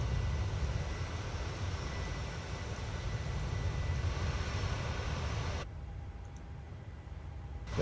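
An Air India Express Boeing 737-800 lands at Leh, heard from inside the cabin as a steady broadband roar that drops to a quieter hiss near the end.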